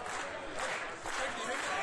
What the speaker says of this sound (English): listen to the crowd. They are clapping.